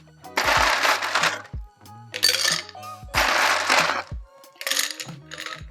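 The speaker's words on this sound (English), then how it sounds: "taking a Collins glass and filling it with ice" Ice cubes tumble and clink into a Collins glass in several separate bursts, bright rattling scoops with short pauses between them, close up.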